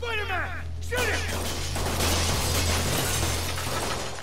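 Glass shatters and crashes in Spider-Man on PS4, a bright smashing burst over a steady low hum, with someone talking excitedly through and around it.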